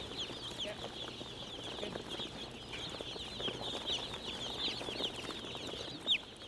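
Young chicks being unloaded from a delivery truck onto a poultry house floor for brooding, their dense, continuous high peeping chorus steady throughout with faint handling noises.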